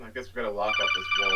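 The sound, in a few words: phone text message alert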